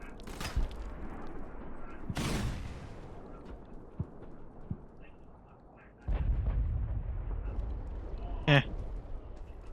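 Several loud, booming video-game explosions burst at irregular intervals, with a rumbling blast and a sharp bang standing out from a quieter background.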